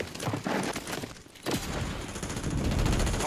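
Rapid automatic gunfire from an FJX Horus in Warzone, loud dense bursts of shots with a short pause midway, then sustained firing with booming low end.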